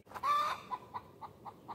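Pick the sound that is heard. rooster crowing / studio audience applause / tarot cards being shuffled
rooster crowing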